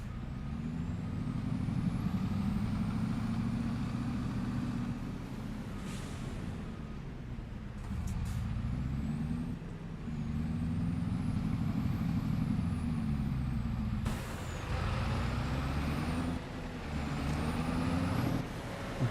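A truck in Farming Simulator 25 hauling a large load of pallets gives a steady, loud engine drone throughout, broken by a few brief hissing air-brake bursts.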